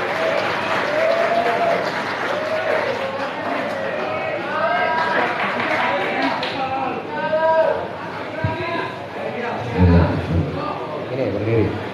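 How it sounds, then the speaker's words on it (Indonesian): Audience clapping at a gathering at a printing company in Bandung, sustained applause with crowd chatter and voices throughout. "Tepuk tangan."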